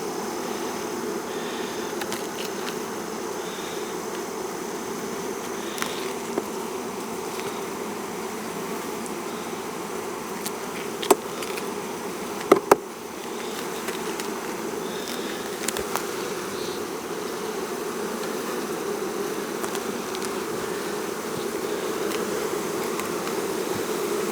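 Honey bees swarm-buzzing around an open hive in an apiary, a dense steady drone close by, with a few faint clicks and knocks of hive handling and no talk.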